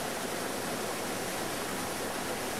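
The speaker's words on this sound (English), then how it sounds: "you can hear and then get the first glimpse of the massive falls ahead" Steady, dense roar of rushing water with no pauses from Iguazu Falls heard from nearby, broadband and unchanging throughout.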